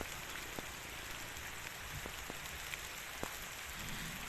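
Steady rain falls on a farm plot, a dense even hiss with scattered sharp drops tapping close by, faint and continuous with no talk.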